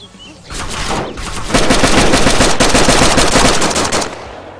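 Rapid automatic gunfire in the video game DayZ, a dense, loud burst of shots that builds after a shorter opening volley and keeps hammering for several seconds.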